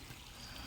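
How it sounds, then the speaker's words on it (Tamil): A shallow stream trickling with only a little water flowing, a faint, steady burble and pour heard briefly with no talking. "தண்ணி கொஞ்சமாக தான் போயிட்டுருக்கு"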